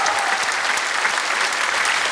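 Dense, steady applause from a large audience after a singer's performance, loud and continuous throughout with no voices standing out.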